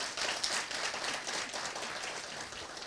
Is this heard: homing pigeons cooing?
no